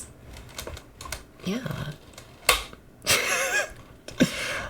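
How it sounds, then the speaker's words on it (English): A computer keyboard shifted and bumped across a desk, giving scattered clattering knocks and scrapes close to the mic, with a brief spoken word in between. "Oh, the wonderful noises of me moving my keyboard."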